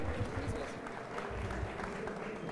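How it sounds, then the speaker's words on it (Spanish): Audience at a Campus Party hackathon final gives a steady round of clapping, dense and fairly distant, sustained for a couple of seconds. "Denle un fuerte aplauso al último equipo de la vertical educativa de este Hackathon"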